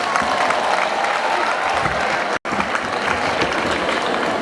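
Dense, sustained applause from a large crowd at a parish school education-day celebration, loud and close, with a brief cut in the middle and faint voices mixed in.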